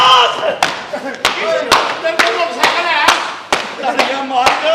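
Audience at a Pakistani Punjabi comedy stage drama clapping in sharp, regular unison beats about every half second, ringing out loudly over performers talking on stage.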